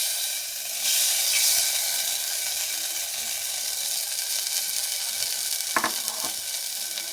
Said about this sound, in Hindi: अब इसमें मैं दाल डालती हूँ।